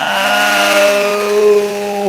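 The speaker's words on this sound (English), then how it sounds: "Look at the drill." A power drill whirs steadily at close range, its motor giving a continuous high-pitched tonal whine that shifts slightly in pitch over about two seconds, with no talk over it.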